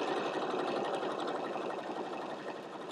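A sewing machine quilting layers of a fabric basket, a steady, continuous mechanical whirr of stitching, close and even throughout.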